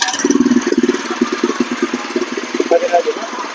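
A petrol power weeder engine fires up and settles into a rapid, throbbing idle, close and loud, with a brief rise in pitch near the end; no speech over it.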